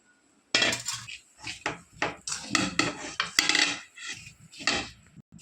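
Flour being stirred and scraped in a hot pan, a series of close, loud scraping and rubbing strokes in irregular bursts with short pauses between.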